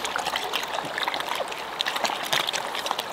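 A creek at a boondocking campsite trickles and splashes in a steady, close, broadband wash with no talking over it.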